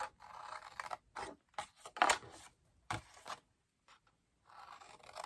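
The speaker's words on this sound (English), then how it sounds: "So you're just going to cut up to the first score line." Scissors cut a paper box along its score lines in several short, uneven bursts of close snipping and scraping, separated by quiet pauses.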